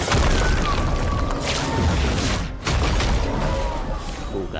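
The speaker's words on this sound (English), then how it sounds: "Cool guys, don't look at explosions." An explosion in the video game Clair Obscur: Expedition 33 during a boss fight: a loud, broadband roar that rumbles almost continuously, cuts out briefly partway through, then surges back.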